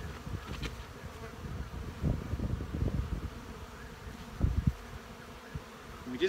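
Honey bees buzz steadily at an open hive during early spring feeding, a dense low hum with louder swells as individual bees pass close to the mic.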